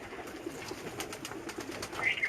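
Pigeons at a rooftop loft, a few soft coos and light fluttering heard faintly against a quiet background, with a brief brighter call near the end.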